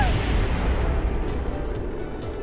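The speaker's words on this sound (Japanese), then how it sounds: "エンジンは爆発しちゃった" A rocket engine explodes in Kerbal Space Program, leaving a dense, continuous roaring rumble that stays loud and steady with crackling texture throughout.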